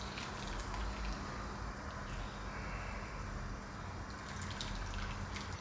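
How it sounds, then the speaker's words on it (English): Boiling water is poured over a whole duck being prepared for Cantonese roast duck, giving a steady, fairly quiet splashing and trickling hiss throughout. "pour boiling water over the duck's body"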